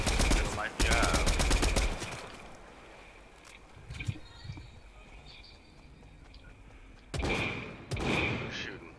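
Automatic gunfire in a Fortnite battle royale match: loud, close bursts of rapid shots at the start and again near the end, with quieter game ambience and scattered sounds between them.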